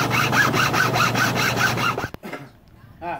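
A hand saw cuts notches into wooden takedown bow limbs in quick, rhythmic back-and-forth strokes, close and loud for about two seconds, then stops, followed by quiet handling and a brief voice.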